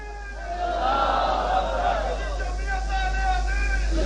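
A crowd raises a religious chant in praise of Allah at a 1995 Ahl-e-Hadith gathering in Samundri, Pakistan, many voices swelling together in a steady, loud, reverberant roar of massed voices.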